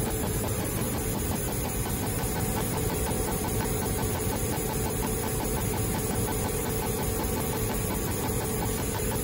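Engine held at a steady 2500 RPM on a test bench at around 6 bar load with lean mixture, a constant loud mechanical drone with dense vibration and no pauses.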